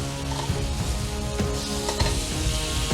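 Jack Daniels honey shrimp sizzle steadily on a grill just after being flipped, a close, continuous frying hiss with a few faint scrapes and clicks and no talking.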